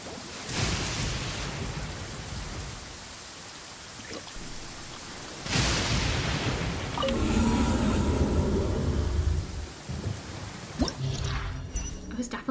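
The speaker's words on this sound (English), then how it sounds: "This heavy rain must be quite an inconvenience for you." Heavy rain in the Genshin Impact game, a dense hissing downpour with a couple of louder surging bursts and rumbles, steady and fairly loud throughout, a voice faintly audible underneath.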